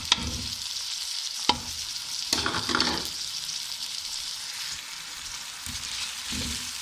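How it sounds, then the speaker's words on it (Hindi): Salt, cumin and garam masala frying in a pot of spinach, pea, potato and carrot curry, a low steady sizzle with a few sharp stirring knocks and scrapes. "इसको अब अच्छी तरह फ्राई कर देंगे"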